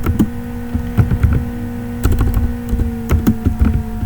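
Java code is typed on a computer keyboard in quick, uneven bursts of close, crisp key clicks over a steady background hum, with no talking.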